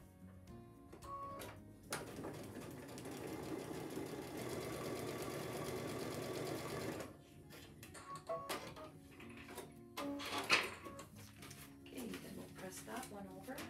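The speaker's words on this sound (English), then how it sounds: "So I'm just going to glue that together and sew on line number 2." A sewing machine stitches a glued quilt fabric panel, running steadily for several seconds at moderate loudness before stopping, followed by quieter handling clicks and rustles.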